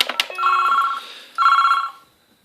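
A SOHO-308C PBX office phone system extension rings in two electronic trills separated by a short pause, clear and close, with a couple of clicks at the start.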